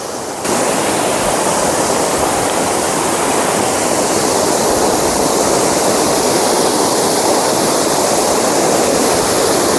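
Water pours over the broad spillway of Dantiwada Dam in a loud, steady, unbroken roar like a wide waterfall, heard close and alone.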